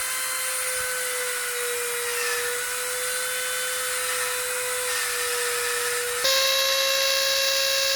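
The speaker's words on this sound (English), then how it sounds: "We went back in with the Dremel, added the scale detailing as well as the face detailing on top of that." A Dremel rotary tool carves scale and face details into a Magikarp model, giving a steady high-pitched whine that holds near one pitch, then steps up sharply as the speed rises near the end.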